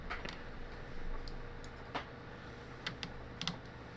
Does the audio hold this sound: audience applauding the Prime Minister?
no